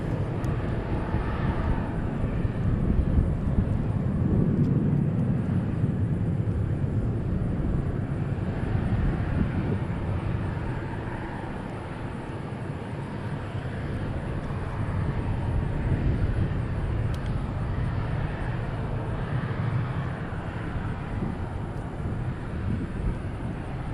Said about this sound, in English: Cargo Lux now finally crossing the runway